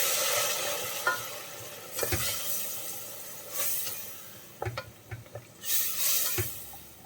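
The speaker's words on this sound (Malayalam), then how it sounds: "1/2 കപ്പ് തൈര് നമുക്ക് ചേർത്ത് കൊടുക്കാം. നന്നായിട്ടൊന്ന് മിക്സ് ചെയ്ത് കൊടുക്കാം." Yogurt is stirred into soya biryani masala in a pan, producing a soft low sizzle broken by several scraping, squelching stirring strokes at irregular intervals; faint and close, no voices.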